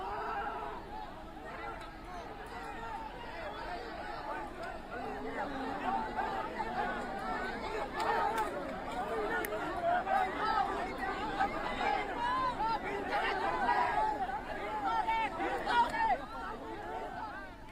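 An overflowing crowd fills the air with dense, continuous chatter and babble, many overlapping voices near and far with occasional chuckles.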